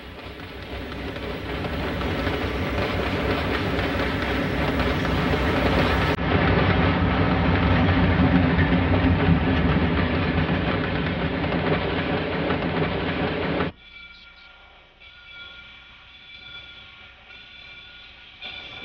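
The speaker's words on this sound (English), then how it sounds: "With Grand Trunk 6330 on the point, GTW's train number 15 arrives from Montreal and Toronto." Grand Trunk Western passenger train number 15, led by locomotive 6330, arriving at a Chicago station from Montreal and Toronto: a loud, steady rumble of rolling cars and engine that drops away abruptly near the end.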